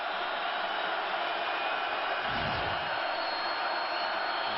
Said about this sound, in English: Crowd trying to get into it here, be loud for the quarterback.